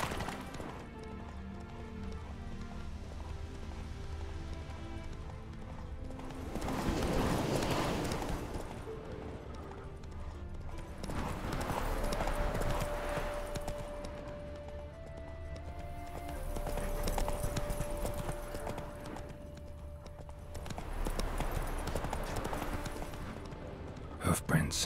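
Horse hooves clip-clop steadily in The Witcher 3 as a horse is ridden along a road, faint and low in the mix, rising and falling in waves with music and occasional speech over them.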